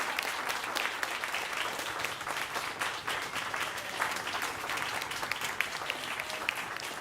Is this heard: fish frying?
no